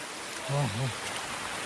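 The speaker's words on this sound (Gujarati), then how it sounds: "બહુ એટલે બહુ વરસાદ લાગે છે" Heavy rain near Kedarnath pours down in a steady, dense hiss while someone briefly speaks over it.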